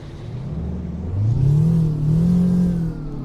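SCOT A2HD truck with a DD8V engine in American Truck Simulator fires up and revs, a steady idle rising into a loud, high-pitched climbing engine note that holds, then eases back near the end.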